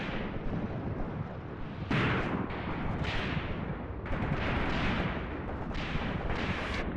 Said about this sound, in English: now we've got all three half-tracks all firing at the enemy